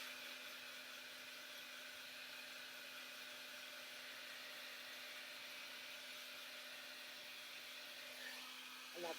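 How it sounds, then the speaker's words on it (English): A hair dryer blow-drying paint on glitter shoes, a steady faint whirring hum with a constant tone that continues unbroken throughout, with a slight rustle at the end. "let's blow dry it again"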